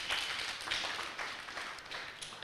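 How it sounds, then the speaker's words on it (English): Applause from an audience at a peer educators academy gathering, many hands clapping in a steady crowded patter that swells and eases slightly, moderately loud with no voices. "Can you clap for yourselves more?"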